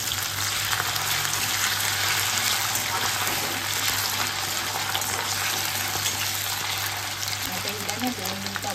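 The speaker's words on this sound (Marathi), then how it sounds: "हे बटाटे आहे ना, ते मी तेलामध्ये फ्राय करून घेणार आहे 2-3 मिनिटासाठी" Potato pieces sizzling in hot oil in a pan while cooking methi bhaji, a steady loud crackling hiss throughout, with a voice speaking over it.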